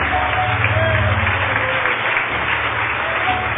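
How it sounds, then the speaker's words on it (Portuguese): A church congregation applauds during a sermon, a dense, steady wash of many hands clapping at once that stays even and loud throughout. "Vamos aplaudir o Senhor Jesus por cada vida que está chegando."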